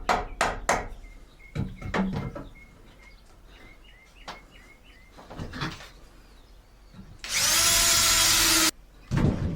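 A power drill bores holes in wood boards, giving a loud, close whine of about a second and a half near the end, with knocks, clatter and faint bird chirps earlier.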